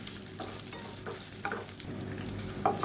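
Green chillies fry in a pan of hot oil, giving a soft, steady sizzle with a few light stirring scrapes, heard close and alone.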